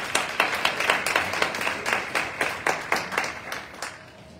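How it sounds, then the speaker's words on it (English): A small group at a board and community meeting applauds, a short run of individual claps with a loose rhythm, fairly close and fading out at the end. "I think that deserves a round of applause."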